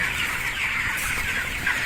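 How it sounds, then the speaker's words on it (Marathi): English hens clucking in a group, a steady busy chorus of calls at moderate distance, continuous without talk. "कुठं जाशी तिकडं कोंबड्या"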